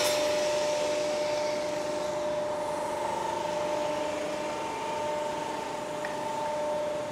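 A chain-driven cable ladder roll forming machine, with a double chain transmission and steel panel stands holding the rollers, runs with a steady continuous mechanical whir and drone at constant level, no talk.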